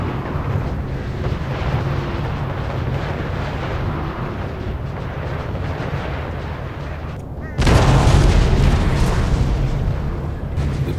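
A dense, continuous barrage of booming cannon fire and explosions at a star fort battle in a video game, rumbling without pause and growing louder near the end.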